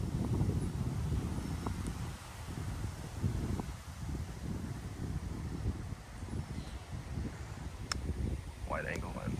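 Wind buffets the microphone of a camera with an ultra wide angle lens and wind noise reduction switched off, a steady low rumble with gusty surges throughout, calm before a storm, while someone speaks underneath.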